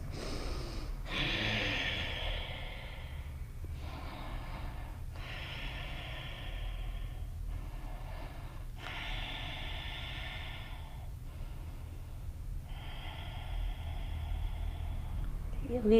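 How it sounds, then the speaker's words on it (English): Steady breathing in and out through the nose during a yoga flow class, with about seven slow, airy breaths of even length separated by brief pauses over a faint background hum. "Keep breathing, steady, easy, in and out your nose."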